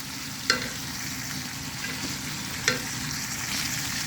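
Pork belly stir-fries in a pan with southern chili paste, producing a continuous close sizzle broken by two distinct spatula clanks against the pan, with no voices.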